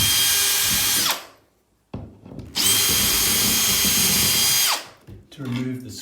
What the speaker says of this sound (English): I've actually bought a power tool.